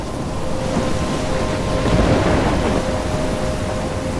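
Heavy storm in the video game Life Is Strange: steady, dense rain with a deep rolling rumble of thunder that swells midway and then eases, loud and continuous, with no voices.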